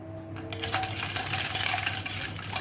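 Rooh Afza watermelon drink with ice being stirred, a spoon clinking and ice rattling against the container in quick bright taps, close up with no talking.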